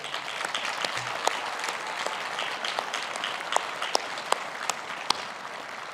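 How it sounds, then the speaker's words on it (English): Sustained applause at a University of Virginia Class of 2021 graduation ceremony honoring university leaders, a broad wash of clapping from a large outdoor crowd with a few sharper claps standing out near the front. "Please join me in a round of applause to thank them."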